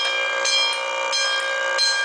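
Autocall fire alarm system bell ringing continuously inside an elementary school, a loud, steady metallic clangor with slight pulsing swells, heard alone with no talk.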